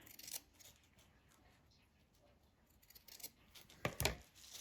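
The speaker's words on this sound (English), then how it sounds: "Just cut some little fringes up in there." Scissors snip little fringes into decorative material for a Christmas snowman craft, with a few quiet, sharp cuts heard close by in otherwise near silence.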